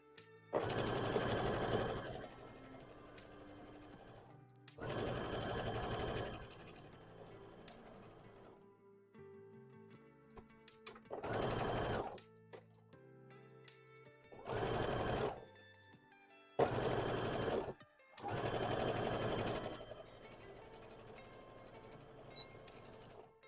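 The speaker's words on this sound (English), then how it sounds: "Let me sew the other one, and then we'll see how I like it." A sewing machine stitches a costume ear in six bursts of rapid mechanical whirring, each lasting one to three seconds and separated by quiet pauses with faint handling clicks, close and clear.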